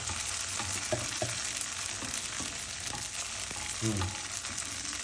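Tofu and bean sprouts stir-frying in a pan until golden and crisp, a steady broadband sizzle with scattered scraping stir strokes throughout, close and continuous with no talk.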